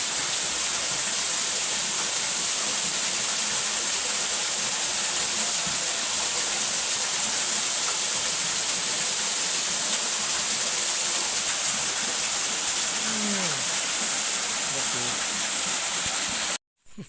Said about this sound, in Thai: น้ำตกที่ใหญ่ที่สุดของโลก